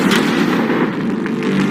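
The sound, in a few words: tank firing a cannon shot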